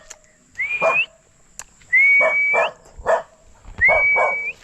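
A dog barks in short, agitated bursts, three times, each mixed with a rising whistle-like tone. Brief pauses fall between the outbursts in an outdoor garden setting, close and fairly loud.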